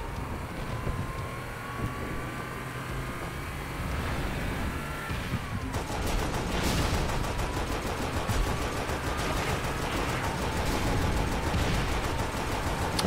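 Rapid gunfire in Halo: Spartan Strike, quieter at first, then growing dense and sustained about halfway through, with rattling automatic bursts layered over engine-like hum and game effects.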